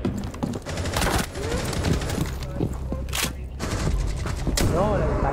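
Gunfire in a competitive shooter match, with repeated bursts and scattered shots crackling through continuous background noise while voices talk over the action.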